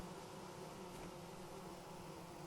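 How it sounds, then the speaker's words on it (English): A steady, dense buzzing of many bees in the video game Vintage Story drones on without a break, faint and hissy, with no voices. "Even more bees."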